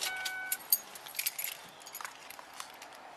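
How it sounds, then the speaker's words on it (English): A driver's car keys jangle and clink in a series of light metallic shakes as they are handed over, close by and fairly quiet, with no talking. "Turn off the car and pass me the keys, please"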